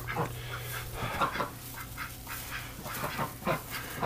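Several egg-laying farm ducks quack in short bursts over a steady low hum, the calls scattered and overlapping at close range.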